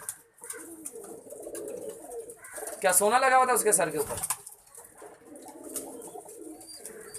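Pigeons coo softly in the background while someone talks in Hindi, with a louder burst of rising vocal sound in the middle.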